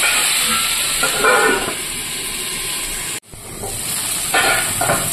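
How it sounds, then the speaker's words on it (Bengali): Onion and garlic sizzle in a pan with leafy greens, a steady close hiss of frying that briefly cuts out near the middle before resuming with faint stirring scrapes. "পেঁয়াজ রসুন দুটোই দিয়ে দিয়েছি আমি। এবার একটু ভেজে নেব।"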